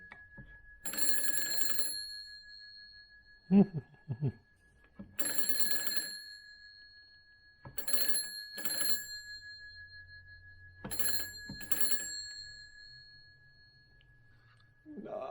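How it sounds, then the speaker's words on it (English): A converted 1920s analog telephone rings its bell in several loud, sustained metallic bursts separated by pauses, with a brief voice and some handling noise between rings. "Phone's ringing."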